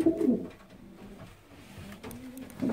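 Soft low cooing from a mated pair of racing pigeons in a loft, a couple of brief murmuring calls at the start and end with quieter rustling between.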